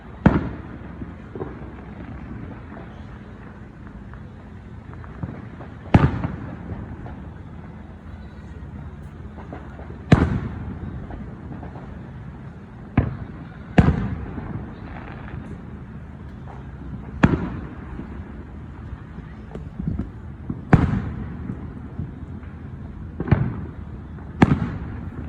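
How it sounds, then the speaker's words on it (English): A fireworks show bursts with a string of sharp booms and crackles at irregular intervals, roughly a dozen blasts rising over a quieter rumbling background, fairly distant and echoing. "I'm enjoying the fireworks show right now"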